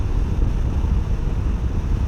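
A cool wind buffets the microphone on a solo motorcycle trip on the open road from Chennai to Vagamon, a loud, constant low rush with no voices.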